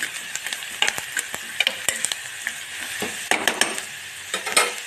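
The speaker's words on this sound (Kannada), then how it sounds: "ಈರುಳ್ಳಿ ಚೆನ್ನಾಗಿ 2-3 ನಿಮಿಷ ಈ ರೀತಿ ಫ್ರೈ ಮಾಡ್ಕೊರಿ" Onions frying in a pan, a steady sizzle broken by repeated sharp scrapes and clinks of a utensil stirring against the pan, close and clear with no talking.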